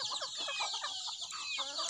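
Chickens cluck and chatter in a busy flock nearby, with quick overlapping calls and a higher squawk or two, no one speaking.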